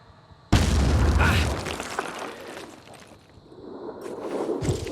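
A loud, booming explosion in the video game Phoenix Point: Terror from the Void bursts in suddenly, followed by rumbling debris and crackling that fade, then a smaller blast swells near the end.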